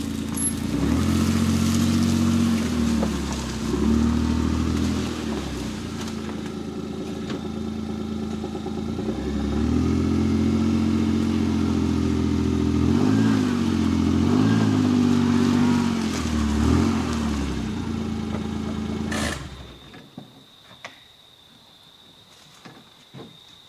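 A Mule utility vehicle's mid-pitched engine drones and revs in surges as it strains to drag a cedar stump from the ground on a homestead, holding steady then cutting off near the end, leaving near silence.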